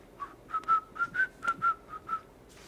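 A person whistles a short melodic phrase of about nine clear notes, fairly quiet and close, alone with no talking over it.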